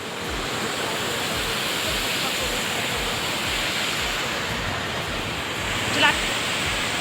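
A waterfall at a crowded picnic spot pours in a steady, loud broadband rush that continues without a break, with a brief faint splash or clatter near the end.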